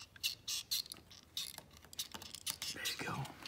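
Snipping and crinkling while scissors cut away fabric from a cast on a lamb's leg, quiet close-up rustles and clicks in an uneven rhythm, with soft voices nearby.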